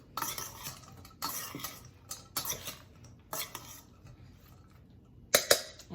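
Sliced fennel tossed with a couple of tablespoons of vinaigrette in a bowl, heard as bursts of clattering utensil scrapes and clinks in uneven groups with short pauses, ending in a sharp knock.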